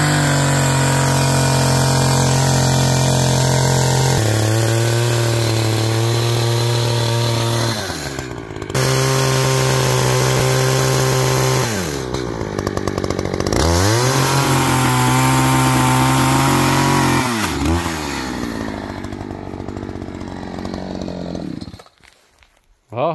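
A chainsaw freehand milling a log into 2x4 lumber roars loudly and close, its pitch dropping and rising as the bar bites and revs through a series of cuts before cutting off at the end.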